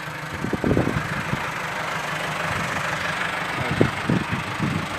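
A motor grader's engine runs steadily at idle with a faulty, noisy transmission, giving a constant mechanical drone with uneven knocking and clunking pulses throughout.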